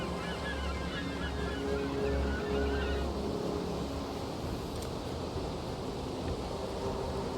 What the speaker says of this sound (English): Why don't you like the seagulls?